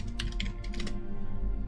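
Quick burst of computer keyboard typing during a drawing stream, a short run of light clicky keystrokes in a fast uneven rhythm, close and fairly quiet over a steady low background hum.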